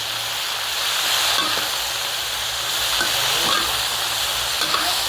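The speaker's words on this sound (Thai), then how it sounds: "ใส่ผักคันจองลงไปแล้วก็ผัดค่ะ ผัดให้ผักคันจองสลดนะคะ" Water spinach with crispy pork rind is stir-fried in a hot pan, giving a loud, steady sizzle with occasional scraping stirs close by.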